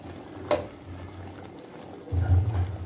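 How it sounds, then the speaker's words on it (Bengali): Mango puree boils in a pan while being stirred: soft, low bubbling and a single brief pop early on, then a thicker, louder burst of bubbling near the end. "দেখুন আমের পিউরিটা ফুটে গেছে"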